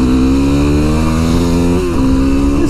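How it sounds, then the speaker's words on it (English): Small motorcycle engine revving steadily and loud up close, a continuous buzzing drone that dips briefly in pitch before climbing again, heard alone with no talk. "This little bike gets going, baby."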